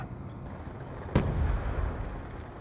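A grenade goes off in a Call of Duty Black Ops 2 multiplayer match, one sudden muffled blast followed by a low rumbling tail over quiet game ambience.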